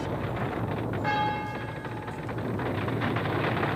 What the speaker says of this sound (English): every church bell in San Francisco began ringing